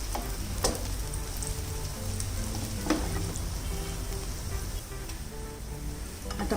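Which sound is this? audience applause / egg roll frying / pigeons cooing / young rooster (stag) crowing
egg roll frying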